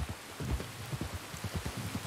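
Rain in the video game Red Dead Redemption 2, a quiet patter of drops striking a surface in irregular soft taps, faint and unaccompanied.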